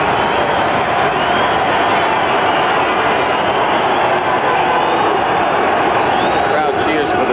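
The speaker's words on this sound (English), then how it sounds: "Crowd cheers for the Federals cheerleaders who are circling the field" Large stadium crowd roaring and cheering continuously at a 1983 USFL football game, Chicago Blitz versus Washington Federals, as cheerleaders circle the field; a dense, steady wall of crowd noise with a commentator's voice faintly under it.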